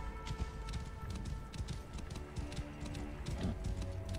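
A horse galloping in the video game Assassin's Creed Origins, with rapid rhythmic hoofbeats over a dense background of game music and ambience, moderately quiet, no talking.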